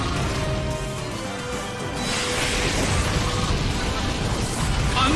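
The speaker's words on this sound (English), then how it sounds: "Annihilated by explosion!" A Pokémon's Explosion move in Pokémon Battle Revolution, a loud sustained crashing blast that swells into a dense rumbling roar and holds steady, with no clear talk over it.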